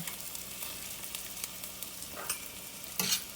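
Sope dough frying in a pan, a steady crackling sizzle with a few louder spits and pops near the end, no voices.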